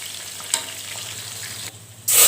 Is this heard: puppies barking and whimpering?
no